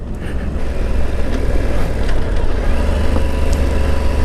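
A 2019 Yamaha Super Tenere ES adventure motorcycle climbs a steep off-road grade in second gear. Its engine holds a steady, loud drone throughout, with rumble and wind close by.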